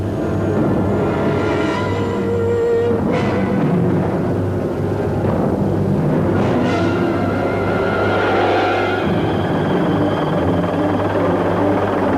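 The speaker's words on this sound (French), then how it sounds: "Il voit un hélicoptère." A helicopter flies over a search, its rotor a steady, loud rumble with a constant drone throughout and a few swells and whooshes, without speech.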